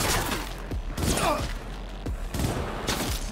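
Gunfire in a Cyberpunk 2077 firefight, heard as repeated sharp thumping shots amid a busy, noisy background over about three seconds.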